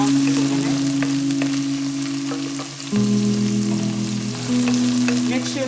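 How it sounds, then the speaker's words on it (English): Green chili fries in a pan on a medium gas flame for Chinese-style chilli chicken, a loud, close, continuous sizzle with faint stirring clicks and a steady low hum underneath. "Just fry it at least 1 to 2 minutes."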